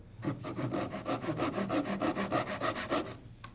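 A hand saw rasps steadily through a wooden dowel in quick, even back-and-forth strokes, close and fairly loud, with no talking.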